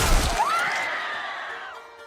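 A violent crashing impact from a head being smashed in during a Game of Thrones fight scene, a loud sharp crunch followed by a ringing, wailing tone that fades out.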